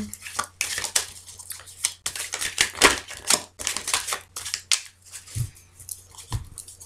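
Tarot cards handled and shuffled close by, a series of crisp papery rustles and slaps in uneven bursts, with a few soft low thumps toward the end.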